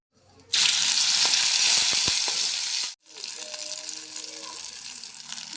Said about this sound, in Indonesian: ini bumbunya sudah jadi dan mau aku tumis